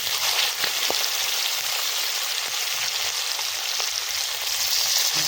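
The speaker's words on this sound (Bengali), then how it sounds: "এবার এইখানে টুনা মাছগুলো ভেজে নেবো।" Pieces of tuna cut from a large 4 kg fish fry in oil in a pan at an outdoor winter picnic, giving a loud, dense, steady sizzling hiss with faint crackles and no voices.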